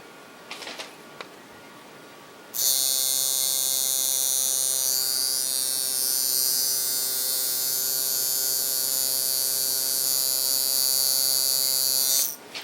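A tattoo machine buzzes steadily while shading, starting abruptly after a quiet moment and running continuously for about ten seconds as a close, loud electric whine before stopping.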